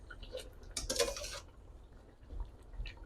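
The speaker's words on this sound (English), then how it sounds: "I'm just turning the legs over so that they get evenly cooked." Chicken legs being turned over in a cooking pot for Cuban chicken fricassee, a brief cluster of metallic clinks and scrapes of utensil against pot around the middle, then quiet simmering.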